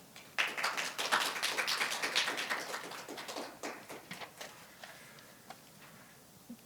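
Scattered applause for a vice president at a Korean bio-health industry networking event, a burst of claps that thins out into sparse, separate claps, fairly faint and without talk.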